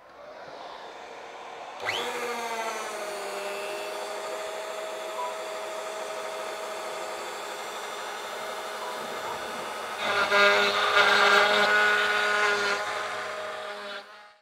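A CNC router bit cuts away a thick layer of wood for a 3D inlay, a steady loud whine with a harsh, grinding swell toward the end, no voices.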